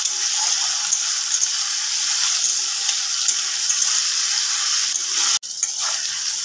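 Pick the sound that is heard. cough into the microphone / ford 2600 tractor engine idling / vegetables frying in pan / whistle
vegetables frying in pan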